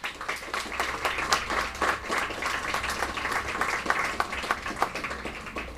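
A roomful of people applauds Alan Decker, a core team member, at the 2018 Mind Sports Olympiad award ceremony: steady, moderately distant clapping, faint and continuous, with no voices on top.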